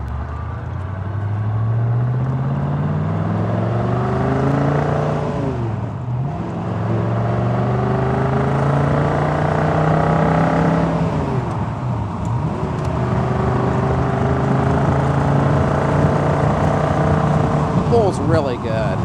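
A 1966 Ford Mustang GT's 289 V8 with a 4-speed drones steadily while driving, rising in pitch through the gears with brief drops between shifts, loud and close inside the convertible.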